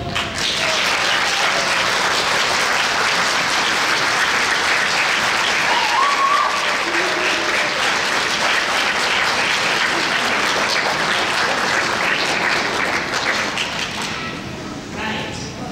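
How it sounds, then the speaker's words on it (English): Loud, dense applause from a graduation audience at the Wenatchee Valley College RN nursing ceremony, a continuous roar of many hands clapping that holds steady before tapering off at the end. "Students, a round of applause for those who have supported you."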